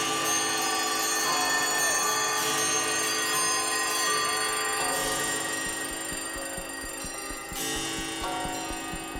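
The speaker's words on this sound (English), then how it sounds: "And the ticking that's coming in" Clock ticking from a live Pompeii performance, steady ticks tapping beneath layered, sustained musical tones and chimes that fill the whole stretch.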